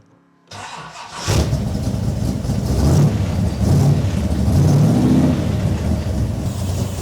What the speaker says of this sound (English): All right, let's get her started.